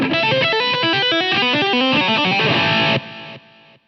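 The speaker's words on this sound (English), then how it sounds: "here we've got a Marshall high gain model with some reverb" Heavily distorted electric guitar through a Marshall high-gain amp model plays a fast, chugging riff with a reverb tail, then cuts off sharply near the end.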